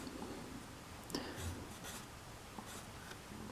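A pencil sketches quick parallel lines on paper for a fantasy fighter's gauntleted fingers: faint, close, repeated light scratchy strokes in short bursts over a quiet background.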